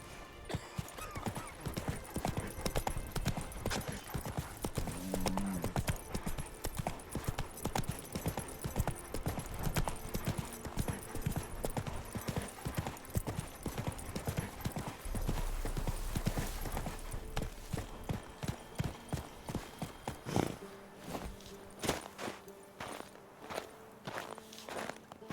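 Horse hooves trotting in The Witcher 3 video game, a steady rhythmic clip-clop of repeated footfalls close by, with a brief snort or whinny and a short change in the ground surface near the end.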